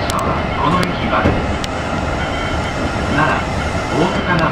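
Kintetsu Kashihara Line express train standing at a station, a steady low rumble and rail hum filling the scene with faint clicks and brief higher squeals, while a muffled announcement voice sits under the noise.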